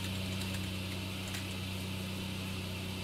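A car engine idles in the Miscreated video game, a faint, steady low hum with constant droning overtones and no change in pace.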